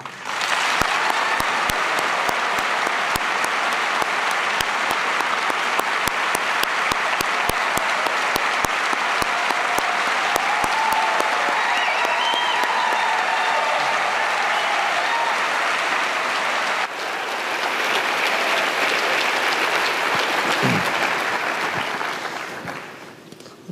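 A large audience at a book talk breaks into sustained applause to welcome two speakers onto the stage, a dense, loud wash of clapping that holds for over twenty seconds with a brief dip partway before tapering off.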